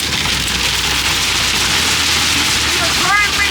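Heavy hail pounds steadily on a van's roof during a Rocky Mountains road trip, a dense, loud, continuous clatter with no letup.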